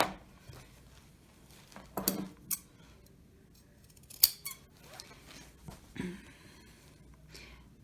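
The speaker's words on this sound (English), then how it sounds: "I'm going to trim off the corners over here" Scissors trimming the corners off a fabric placemat, a few separate, careful snips spaced out, close and fairly quiet.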